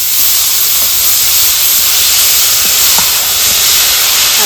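Bottle gourd greens fry in hot oil with garlic and dried chillies, giving a loud, steady sizzling hiss close by, broken by a few faint crackles.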